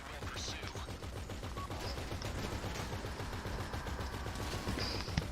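Rapid automatic gunfire in Grand Theft Auto 5, faint bursts of repeated shots in a quick, steady rhythm heard at a distance under game noise.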